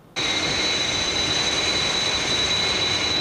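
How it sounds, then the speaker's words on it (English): Fireflash airliner from the Thunderbirds TV episode, a continuous loud jet engine roar with a high steady whine that starts abruptly and holds evenly throughout. "There's another aircraft dead ahead of us."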